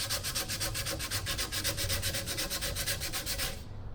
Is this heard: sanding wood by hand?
yes